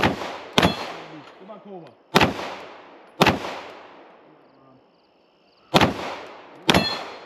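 Sharp gunshots at an outdoor shooting range, five loud cracks spaced about a second apart, some followed by ringing clangs from struck steel targets, with a man giving brief instructions between shots.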